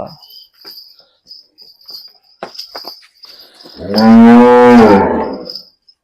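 A cow moos once, a loud, long, close call lasting about a second, at a cattle-selling farm in Kamalpura village, Tarn Taran, Punjab, with crickets chirping steadily in the background and scattered faint knocks before it.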